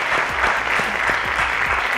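Loud, close audience applause for a secondary school quiz team, continuous energetic clapping from a crowd with no talk over it.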